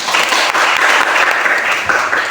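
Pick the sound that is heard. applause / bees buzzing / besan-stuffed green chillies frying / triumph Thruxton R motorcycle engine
applause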